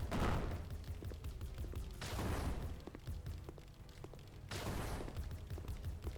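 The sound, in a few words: turrets firing in a tower defense video game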